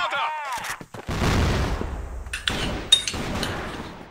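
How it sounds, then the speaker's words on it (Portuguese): In the online shooter CrossFire, a grenade blast lands as a loud, sustained burst after a short opening clatter, then a second sharp detonation follows, with crackling debris trailing after. "Granada!"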